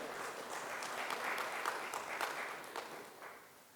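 An audience at a Vishwa Hindi Diwas gathering in Dubai claps together, a faint, distant patter of applause that swells slightly in the middle and then tapers off.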